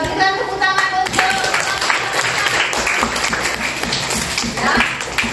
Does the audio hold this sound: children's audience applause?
yes